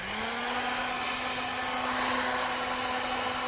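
A heat gun blows steadily while it shrinks heat shrink tubing over freshly soldered wires, a constant whooshing hum with a faint tonal whine that holds at a fixed pitch throughout.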